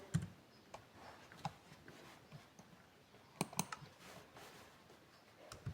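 Quick bursts of keystrokes on a computer keyboard while typing into Minecraft chat, close and fairly quiet, with irregular clicks and short pauses between bursts and no talk.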